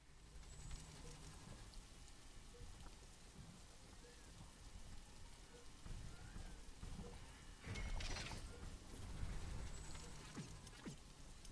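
Steady video game rainfall in Riftbreaker patters and hisses continuously at low volume, with a faint rumble swelling briefly partway through; no voices are heard.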